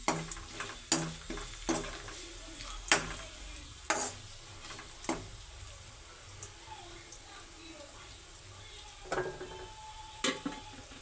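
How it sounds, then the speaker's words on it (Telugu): Whole spices and bay leaf frying in oil in a pan for tomato rice, with a faint steady sizzle broken by sharp clicks and scrapes of a spoon stirring against the pan. "ఇవి కూడా బాగా ఫ్రై అవ్వాలి"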